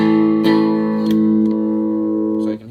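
Clean electric guitar chord ringing through a homemade retro teddy fuzz circuit with the effect bypassed, a sustained bright tone re-struck a few times, loud and close with no talking.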